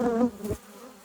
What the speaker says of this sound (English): got a bee trying to sting me